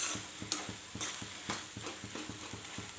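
Horse gram stir-fry in the North Karnataka style, cooked with onion, is stirred in a pan: steady, rhythmic spoon scrapes about every third of a second over a soft frying sizzle, close and clear with no talking.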